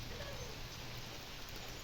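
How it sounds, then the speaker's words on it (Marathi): Faint, steady unseasonal rain in Konkan, a soft continuous patter with no distinct drops standing out, heard from a distance. "पाऊस आला रे पाऊस आला रे"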